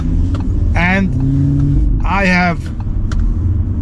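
Engine of a facelifted third-generation Audi RS3 compact performance car hums and rumbles steadily from inside the cabin while someone talks over it, the low drone continuous and moderately loud.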